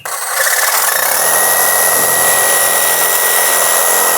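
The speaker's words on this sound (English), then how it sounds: "But Mr. Sawzall says, see ya!" A Sawzall reciprocating saw cuts a notch in a beam. A loud, steady buzzing whine starts abruptly and runs without a break to the end, close to the listener, with no speech.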